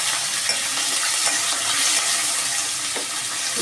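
Curry leaves frying in hot oil in a pan, a loud, steady hiss and crackle of sizzling that continues without a break and with no voices.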